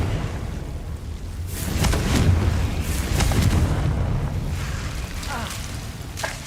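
Confringo fire spells and Bombarda-style blasts boom repeatedly in Hogwarts Legacy combat, heavy low rumbling bursts with crackling spikes layered under continuous game action and voices.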